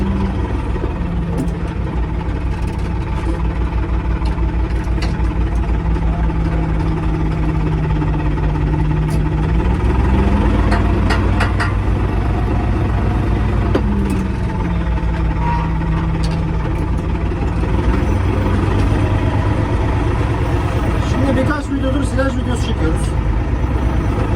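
A heavy Erkunt tractor engine drones steadily from inside the cab during silage work, its low hum rising and falling slightly in pitch.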